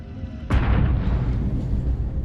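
A sudden loud boom as the left inboard engine of a Boeing jet explodes just after a night takeoff, followed by a heavy rumbling roar that lingers.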